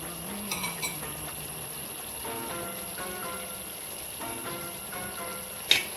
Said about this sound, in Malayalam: അതുവരെ നമുക്ക് ഇളക്കി കൊടുക്കാം.